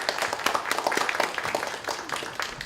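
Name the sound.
applause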